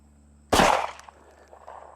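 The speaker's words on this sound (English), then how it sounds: "Man, I keep shooting high with this thing." A single sharp gunshot from a Hi-Point pistol at a shooting range, loud and close with a quick decaying tail, alone against steady background hum.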